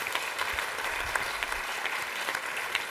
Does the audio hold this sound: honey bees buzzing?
no